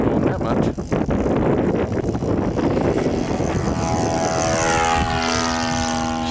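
An Eagle II model airplane takes off, its propeller engine roaring loudly and steadily with a rising whine as it climbs away, while people talk nearby.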